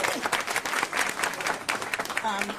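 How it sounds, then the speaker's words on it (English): Crowd applause at a Prince George's County, Maryland briefing on the federal shutdown, a short dense burst of clapping and cheering mixed with voices throughout. "Let's give our utility providers a round of applause."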